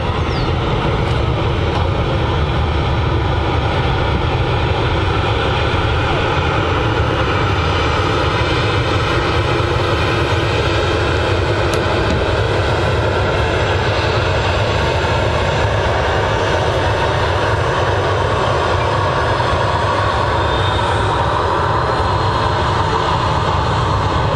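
A TUI airliner passing at Manchester Airport, a loud, steady broadband engine roar that fills the whole stretch without fading, heard close with no talking.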